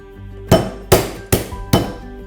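A hammer cracks crab claws in four sharp, evenly spaced strikes, each a close, loud knock with a quick decay and near silence between.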